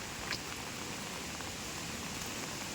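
Rain falls quietly and evenly on a misty mountain trekking trail, a soft steady patter with a faint brief rustle near the start and no one speaking.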